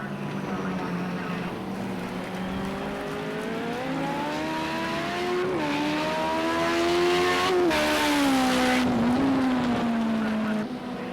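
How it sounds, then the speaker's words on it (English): A Porsche race car in the video game Project Cars 2 gives a loud engine note that climbs through the revs and shifts gears several times, drawing nearer and fading slightly at the end. "Still circulating in the Porsche, but struggling a little bit with grip and traction, and Diesel still going there in 8th place"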